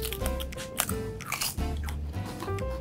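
Crisp, loud crunching of sour cream and onion potato chips being bitten and chewed up close, in irregular bursts of brittle snaps with brief pauses between bites.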